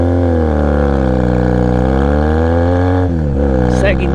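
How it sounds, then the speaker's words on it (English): A Honda Rebel motorcycle with a cut exhaust roars loudly and steadily, a deep throaty drone that dips briefly near the end before building again. "That's what happens when you cut the exhaust. Just hear this roar."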